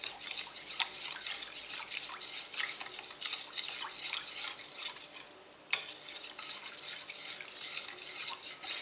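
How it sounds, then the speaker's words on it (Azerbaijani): Cocoa cake cream being stirred steadily in a pot on a gas stove, a continuous soft scraping and swishing with faint bubbling, close and fairly quiet, no voices. "Yenə də əlimi saxlamadan qarışdırıram."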